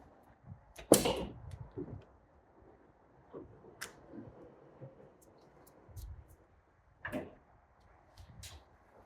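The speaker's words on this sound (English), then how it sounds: "It's time to open it. The door, that is." Sliding side door on a Ford Transit van being worked open after a track reinstall, heard as a few scattered clunks and scraping knocks, fairly quiet, with pauses between them.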